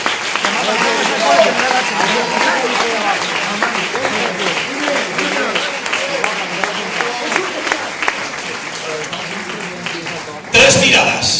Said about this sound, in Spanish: Den un aplauso por favor al Señor.